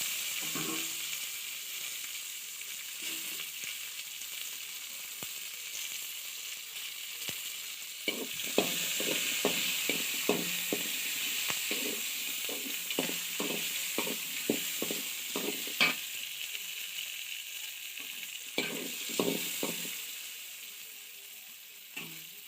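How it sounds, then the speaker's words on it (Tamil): Onion, curry leaves and garlic sauté in a pan for a Tamil-style beetroot poriyal, giving a steady close sizzle broken by repeated scraping and stirring clicks. No one speaks. "வெங்காயம் கருவேப்பிலை பூண்டு எல்லாத்தையும் போட்டுடலாம்"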